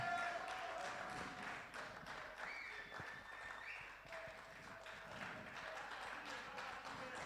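Audience at a public forum on women in political parties claps steadily throughout, a continuous crowd applause wash with some chatter mixed in and no clear pauses.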